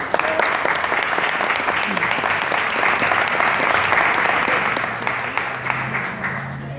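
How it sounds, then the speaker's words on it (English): An audience at a sorority chapter's end-of-year keynote event breaks into strong, continuous applause, dense clapping with crisp individual hits that stays loud for several seconds before tapering slightly, with a faint voice near the end. "so we can give them a big round of applause."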